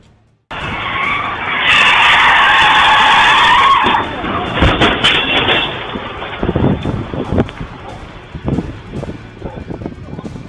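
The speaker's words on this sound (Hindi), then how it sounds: "हाईवे पर अचानक एक कार बेकाबू हुई और फिसलती हुई सड़क किनारे खड़ी गाड़ियों से टकरा गई।" A car goes out of control on a highway, skidding loudly with a long tire screech, then comes a burst of crashing impacts as it slides into vehicles parked at the roadside, with scattered knocks after and a voice talking throughout.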